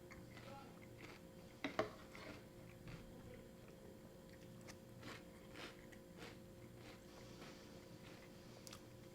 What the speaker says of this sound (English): You're still keeping a decent level of crunch, though